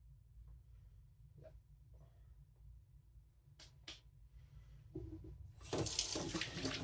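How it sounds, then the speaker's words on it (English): Tap water rinsing in a kitchen sink during knife and prep work, starting with faint clinks and handling noises before the stream opens into a loud, close rush of running water near the end. "just a quick rinse is needed"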